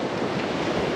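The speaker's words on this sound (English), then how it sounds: "I'm pretty sure that that's just wave noise." Waves break and wash steadily onto an East Coast UK beach at Sandilands and Huttoft Bank, a dense, continuous roar of surf mixed with wind buffeting the microphone.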